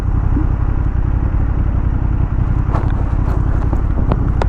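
A 2023 Honda Hornet 750 motorcycle engine rumbles steadily at low revs, close and loud, with a few sharp clicks and knocks over the top.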